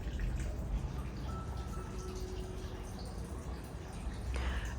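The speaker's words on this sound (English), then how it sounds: "there is always flowing water" Water runs steadily in a Moorish-style courtyard, a continuous soft splashing and trickling wash that holds at an even level throughout.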